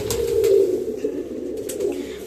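Pigeons in a loft coo in low, rolling murmurs, a close and fairly loud bird sound that swells and fades over a couple of seconds, with light rustling behind.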